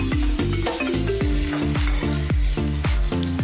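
Onion for pasta frying in a hot pan, a steady close sizzle broken by a regular run of stirring scrapes, with no voice over it.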